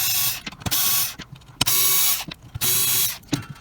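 A powered driver unscrews hatch screws on the Minimizer, a 12 lb hobbyweight combat robot, in three or four whirring, ratcheting bursts, close and loud, with short pauses between them and no talk.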